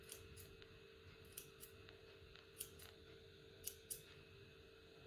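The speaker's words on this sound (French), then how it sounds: "Je commence par couper les fils" Scissors snip through sewing threads on a serger while changing thread cones, a handful of short, crisp clicks spaced out over a quiet, steady background hum.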